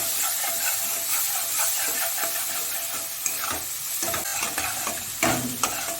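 Green chili, ginger paste and garlic paste fry in a pan for a prawn and pointed gourd dorma, with a continuous hissing sizzle and repeated close scraping strokes of a spatula stirring the paste.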